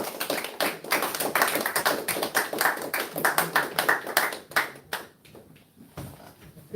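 Audience at a temple service claps in a steady burst of applause, dense and close, then thins to scattered claps before fading near the end.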